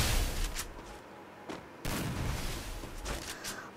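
Shotgun fire in a Free Fire 1v1 match, a dense run of loud, overlapping blasts with short breaks, coming in two main bursts of continuous close-range gunfire.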